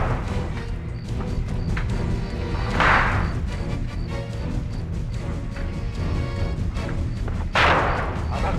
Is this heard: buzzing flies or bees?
no